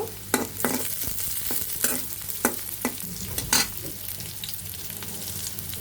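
Garlic and green chilies lightly frying in oil crackle with a steady sizzle and a low hum, punctuated by repeated sharp clicks and scrapes of a stirring utensil; no talk.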